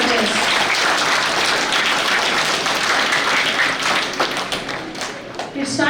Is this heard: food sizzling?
no